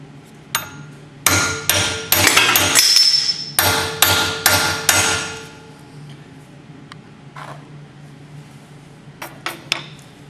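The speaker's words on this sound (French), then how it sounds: "avec la toupie et le marteau, nous allons donner une forme conique à l'extrémité du tube." Metal hammer blows on the end of a tube held over a swaging tool clamped in a vise, shaping a conical flare: a fast run of sharp ringing strikes, then a pause and a few lighter isolated taps.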